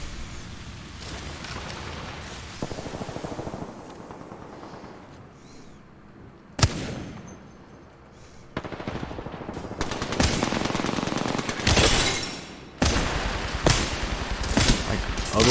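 Gunfire from the game Valorant rattles in bursts of rapid automatic shots and sharp single cracks, loud and irregular with brief pauses between volleys, no voices heard.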